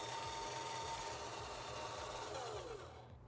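A powered jack on an Airstream trailer hitch raises its foot with a continuous close motor whine, ending in a falling pitch as it stops.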